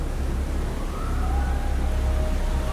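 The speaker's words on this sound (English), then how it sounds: "You hear the sirens going?" Warship sirens wail during a naval battle in the War on the Sea game, rising tones sustained over a heavy low rumble of engines and gunfire, steady and loud.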